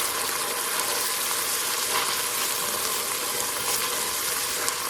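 Garlic fries in a pan with a steady, even sizzle and crackle at close range, holding a constant level with no voices over it.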